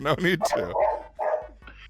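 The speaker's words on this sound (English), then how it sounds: "he's barking a little bit while you're on the show" A dog barks and yips in short bursts close by, loud and mixed with voices talking over it during a live show.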